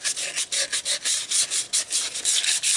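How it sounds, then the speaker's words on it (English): A rag wipes with acetone over a 5 inch Doyle vise in quick, even back-and-forth strokes, a dry rhythmic rubbing of about a dozen close, fairly loud passes with no voices. "I'll wipe her down quick with some acetone before we paint it."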